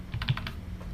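Keystrokes on a computer keyboard while entering a terminal command, a quick run of about five or six close, crisp clicks alone, with a steady low hum underneath.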